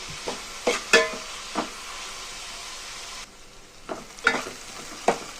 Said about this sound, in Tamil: கொஞ்சம் நல்ல இந்த கண்ணாடி பதம் வர அளவுக்கு வதக்கிக்கோங்க